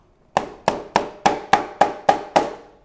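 Eight sharp, evenly spaced metallic knocks ring out as old bicycle crank arms are used in place of a hammer to tap a bike part into place. Each strike is loud and close, with a short decay.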